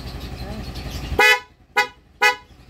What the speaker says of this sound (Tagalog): Yung busina po ma'am.